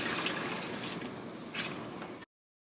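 Hot water poured over shrimp in a bowl while cooking curry shrimp, a steady broadband liquid splash and trickle lasting about two seconds before cutting off abruptly.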